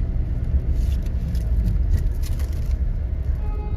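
A car moves along a road, producing a continuous low rumble of engine and tyres heard from inside, steady and fairly loud throughout.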